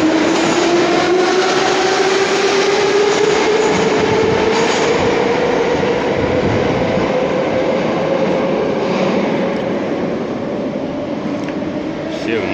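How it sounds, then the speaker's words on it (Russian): Moscow metro train running through a station, a loud continuous rumble with a rising motor whine and rattling wheels that slowly fades a little toward the end, with a voice talking over it. "пожалуйста, поезд."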